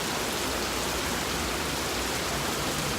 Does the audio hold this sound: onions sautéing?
no